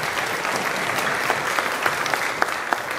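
A crowd applauds at a religious lecture by Rabbi Snir Guetta, with steady, energetic clapping and a few sharper individual claps standing out near the end.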